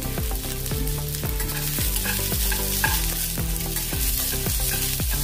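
Large slices of onion go into a pan of frying garlic cloves for vegetable fried vermicelli noodles, giving a loud, dense sizzle broken by a regular rhythm of stirring scrapes and knocks throughout, with no talking.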